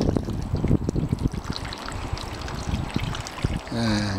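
Water poured down guttering on a garden allotment: a steady splashing, trickling flow with uneven gurgles running for several seconds, close by, ending with a brief tonal hum.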